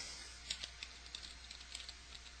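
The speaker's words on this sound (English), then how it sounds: "now we can go back to this and type in our screen name" Computer keyboard typing as a screen name is entered while setting up AOL Instant Messenger: a quick, irregular run of light, close key clicks over a faint steady background hum, with no talking.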